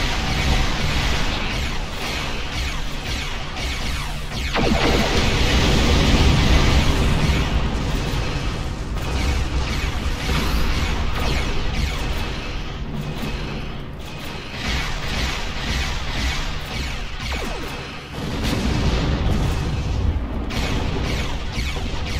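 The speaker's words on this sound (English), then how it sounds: "They've powered up defensive cannons and launched small craft." Defensive cannon fire and explosions during a Star Trek Online space battle: a dense, continuous barrage of booming blasts and mechanical rumble, loud and sustained throughout with surges of heavier impacts.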